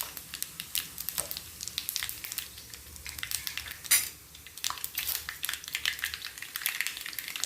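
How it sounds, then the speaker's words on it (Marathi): Mustard seeds and cumin seeds drop into hot oil and crackle, with dense, sharp pops and spits scattered throughout and a few louder bursts, heard up close with no talking. "आता मी याच्यात मोहरी टाकते एक टीस्पून मी मोहरी टाकली आहे अजून एक टीस्पून जिरे टाकले आहे"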